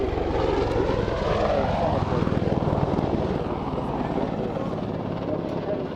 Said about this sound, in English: Helicopter, the size of a bus.